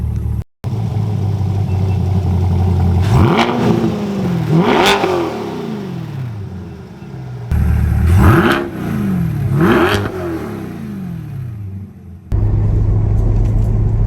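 A C8 Corvette fitted with a performance intake pulls away and accelerates through the gears, its engine rising in pitch twice, then easing off before two more loud revving climbs, heard close and without talk.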